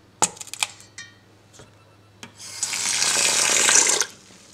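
A few light taps and clicks, then water pours steadily into a pan of mung beans, a bright rushing splash lasting about a second and a half before stopping.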